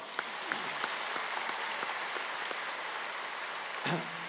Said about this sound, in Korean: 우리 목사님께 감사의 박수 한번 합시다.